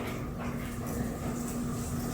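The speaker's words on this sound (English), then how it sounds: "the dogs begin to freeze and start huffing and forcefully exhaling, as if they were sensing something nearby" Dogs huff and exhale forcefully indoors near a window in a ghost-hunting show, a continuous breathy rasp at moderate level with no talk.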